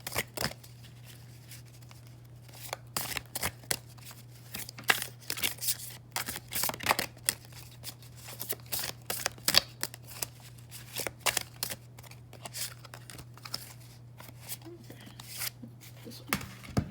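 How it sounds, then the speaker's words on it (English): Oracle cards shuffled by hand produce a quiet, continuous run of quick papery riffles and flicks, with a low steady hum underneath. "Okay, I'm going to draw one oracle card."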